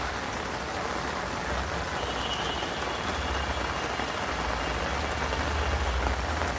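Steady rain pattering on a hard surface of a rooftop garden in Dhaka, a dense continuous hiss with no voices.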